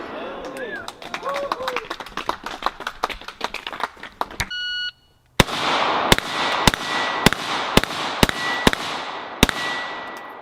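Repeated gunshots at a shooting class in Shelton, Washington, sharp loud cracks, first rapid and irregular, then a steady spaced string of single shots, with people talking between them and a brief electronic beep.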